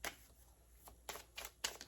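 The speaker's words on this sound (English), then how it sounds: "I'm going to do 3 more shuffles with this" Tarot cards being shuffled close by: a few quiet, brief riffling bursts separated by short pauses.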